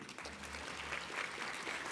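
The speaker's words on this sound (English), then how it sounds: "A round of applause for all of you." Applause from a crowd, a steady wash of clapping that fills the whole stretch without a break, with no voices standing out.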